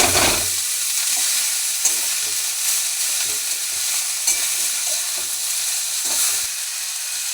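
Drumstick flowers fry with onions in a wok, giving a steady, close sizzle broken by repeated soft scrapes and clacks of stirring.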